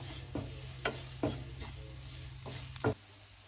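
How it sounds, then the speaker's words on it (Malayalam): Onion masala with fennel powder sautéed in a pan, a quiet, low sizzle broken by several soft spatula scrapes and taps at irregular intervals. "ലേശം വലിയ ജീരകത്തിൻ്റെ പൊടി ഒരു അര ടീസ്പൂൺ നമുക്ക് നല്ലോണം ഒന്ന് ഇറക്കി കൊടുക്കാം പച്ചമണം മാറുവോളം"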